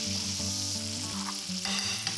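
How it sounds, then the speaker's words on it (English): Butter and brown sugar being stirred in a hot pan, with a steady close sizzle and frying crackle and brief scraping stir sounds, no voices. "And to add to that, I've got 75 grams of butter. A bit of a stir."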